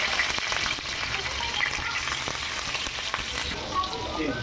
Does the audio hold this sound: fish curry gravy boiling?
yes